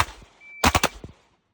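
Three quick, sharp handgun shots crack out close together at an outdoor shooting range during a defensive trigger drill, followed by a couple of fainter pops and then quiet.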